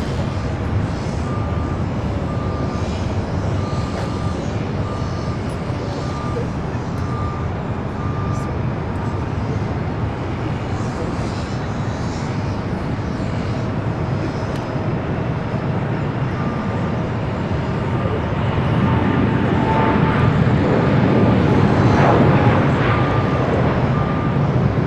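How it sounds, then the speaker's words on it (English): A Japan Airlines jet arriving from Osaka on runway 6 left at LAX, a steady broad roar of engine noise building slightly louder near the end as it approaches, with faint background hum. "Next arrival here on the north side at 6 left, Japan Airlines flight 60"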